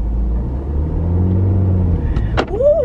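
A car engine rumbles low and steady as the car pulls away slowly during a driving lesson, with a short squeaky chirp near the end.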